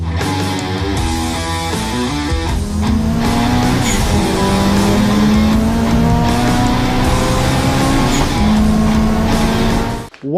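A tuned Honda B16A VTEC four-cylinder engine in a 1970s Honda Civic revs loudly through its exhaust, climbing and holding high pitch with a sharp raspy tone, then cutting off abruptly at the end.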